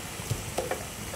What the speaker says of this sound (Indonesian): Ini balacannya kita masukin Pakai terasi ya, pakai terasi.